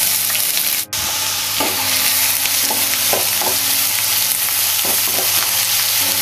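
Finely chopped onions sizzle and fry in hot oil for a chicken curry, a loud steady crackle with occasional scraping stirs.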